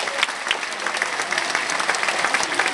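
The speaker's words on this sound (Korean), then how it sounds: "다 같이 한 박수 한번 쳐드리시겠습니다" Congregation applauding together at the close of a Chuseok presentation by a church's foreign missions committee, a steady dense patter of many hands clapping throughout, fairly loud and close.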